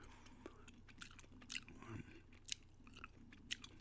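Gum chewing close to the mic: soft, wet mouth clicks and squishy smacks recurring at an irregular, unhurried rhythm over a quiet background hum, with no talking.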